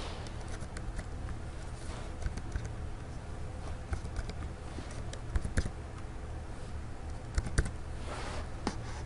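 Steady computer keyboard typing while entering grades into a gradebook, a continuous patter of soft keystrokes with a few louder clicks over a low background hum, no talking.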